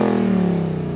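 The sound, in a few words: 2021 Ford Mustang Mach 1 exhaust revving, outside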